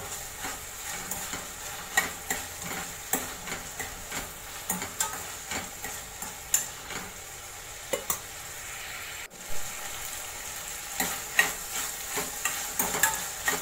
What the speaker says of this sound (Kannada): ಈಗ ಒಂದು ಸ್ವಲ್ಪ ಮತ್ತೆ ಮಿಕ್ಸ್ ಮಾಡೋಣ.